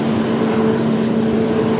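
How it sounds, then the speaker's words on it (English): Frontier jet airliner running up its engines at Raleigh-Durham International Airport, a steady broadband roar with a droning hum, loud and continuous on an airfield with a crosswind. "We've got Frontier firing engines over on the left side. That's what you guys are hearing right now."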